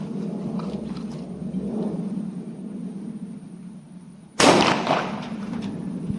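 A .38 revolver fired into a test target at an ammunition test: one sharp, loud shot that bursts in suddenly after a quiet, steady room hum, followed by a short decaying rumble.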